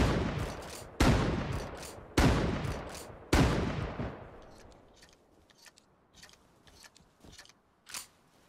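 Shotguns firing in Rust on console: four loud, close blasts about a second apart, each with a ringing decay, followed by a scatter of fainter, more distant shots and clatter.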